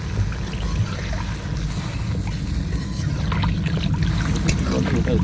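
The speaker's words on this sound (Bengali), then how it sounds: "পরিমাণ অনুযায়ী জল দিয়ে দিচ্ছি মানে আলু আর মূলোটা সেদ্ধ হওয়ার মতন" Water pours into a pot of rohu fish curry with potatoes and radish cooking over a wood fire. A steady trickling gush sits over a dense low rumble.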